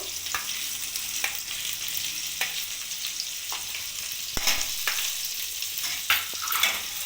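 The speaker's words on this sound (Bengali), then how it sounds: "রসুনটা ভালো করে ভেজে নেব" Chopped garlic sizzles loudly in oil in a wok, a continuous hiss broken by several sharp scrapes of a spoon stirring the pan.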